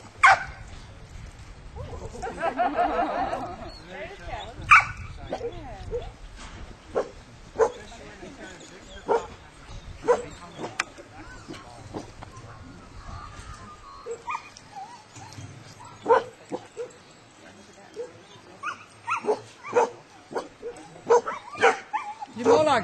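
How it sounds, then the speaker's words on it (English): A working Koolie herding dog barks repeatedly in sharp, separate yips and barks spread across the stretch, some whimpering early on, while people talk nearby. "He barks when he works."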